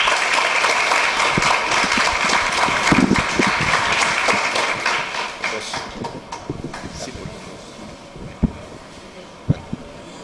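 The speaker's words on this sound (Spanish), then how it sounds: "Yo pido un aplauso para el maestro Limberto Tarriba." An audience at a 2018 conference in Chinú, Córdoba applauds for master Limberto Tarriba. Dense clapping holds strong for about six seconds, then thins into scattered, fading claps with a few sharp final hits.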